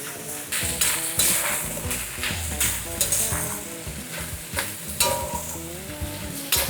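Carrots and onions stir-fried with pork belly on a hot iron griddle, steady close sizzling with repeated scraping and clinking strokes of the spatula throughout.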